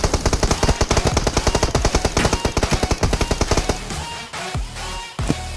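Rapid automatic gunfire in the mobile game PUBG Mobile: a loud, dense burst of evenly spaced shots lasting several seconds, then a few scattered heavier shots and impacts, with no talking.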